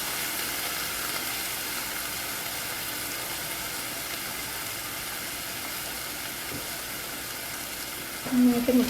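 Cooked chickpeas stir-frying with curry leaves in a pan for kadala thoran; a steady, even sizzle and hiss continues throughout, close by, with a short burst of clatter near the end.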